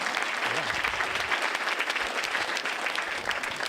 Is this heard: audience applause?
yes